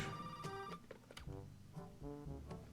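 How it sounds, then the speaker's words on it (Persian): An in-game telephone rings in Resident Evil 7, sounding as a series of short electronic ring bursts repeating in a steady pattern, fairly faint and heard alone without talk. "شیت تلفن پشت هست."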